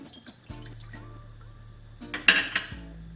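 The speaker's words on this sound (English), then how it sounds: "Turn your fire on medium heat and pour in your water." Water is poured into a pot on a stove set to medium heat for a simple syrup of water and raw sugar, giving a short splashing pour after faint clinks of pots and utensils, close and moderately loud.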